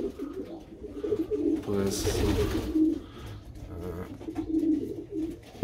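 Soft, low cooing of pigeons repeating in the background at a pigeon loft while someone speaks briefly in Polish over them.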